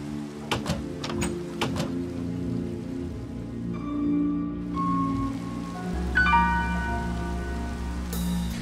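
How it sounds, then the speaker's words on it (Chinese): Heavy rain falls at night in Minecraft as a steady patter, with sharp clicks and game tones layered over it and a low hum near the end. "此时外面的世界已经进入了黑夜，并且下着瓢泼大雨"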